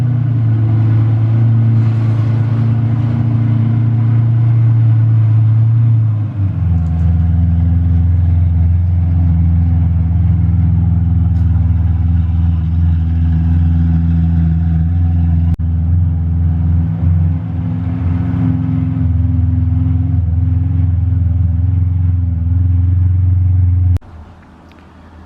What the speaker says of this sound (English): Naturally aspirated V12, baby.